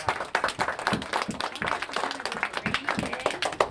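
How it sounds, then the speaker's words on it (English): A small class of children clapping for a classmate's story, with uneven, scattered claps from a few hands close by, rising and falling in irregular bursts. "Let's clap for Derek for what he has so far"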